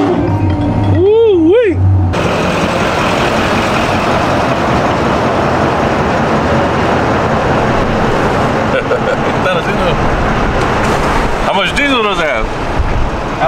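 A single cab pickup truck engine with a performance tune runs with a loud, steady, deep rumble that holds throughout, with a brief rising and falling tone near the start.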